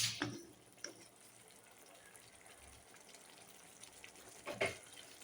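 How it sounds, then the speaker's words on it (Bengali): Water poured into a cooking pot of potatoes, short gushing splashes at the start and again near the end with a quiet kitchen between. "এবার এটার মধ্যে পরিমাণ মতো জল দিয়ে নেবো"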